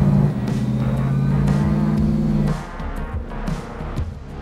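An AMX Javelin muscle car accelerates hard, its loud engine note rising steadily before a gear change drops the pitch and the revs climb again.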